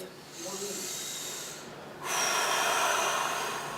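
Two close breaths during a seated chair-exercise session: a shorter inhale, a brief pause, then a longer, fuller breath with a rushing airy texture, quiet and intimate.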